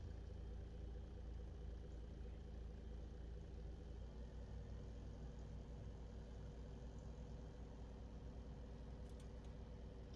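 Aircraft engine idling in a flight simulator cockpit, a low, even drone with layered steady hum, constant and fairly faint throughout with no voices.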